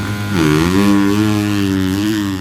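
Motocross dirt bikes riding a practice session at the High Point track, engines rising and holding in pitch with a steady, loud buzzing rev that climbs, dips and climbs again, alone without talk.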